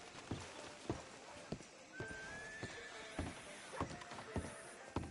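Evenly spaced hoof thuds clop along while a horse lets out a whinny partway through, fairly quiet and close, in the video game Red Dead Redemption 2.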